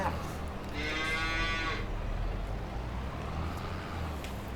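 Cows in the Farming Simulator video game give a long, loud moo early on, heard alone over a steady low background hum.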